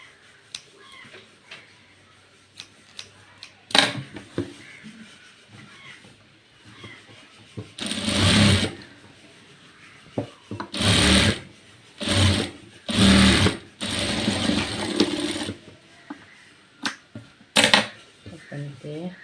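A sewing machine stitches an A-line frock in a series of loud, close bursts of fast mechanical chatter, with quieter stretches of fabric handling and speech between runs.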